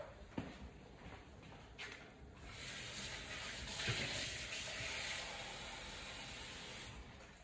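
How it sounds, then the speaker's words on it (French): Water, 350 g, pouring into a fish blanquette in a pot, a steady hissing gush rising after a few light knocks and continuing evenly, close and moderately loud. "Ici, ensuite, on ajoute 350 g d'eau."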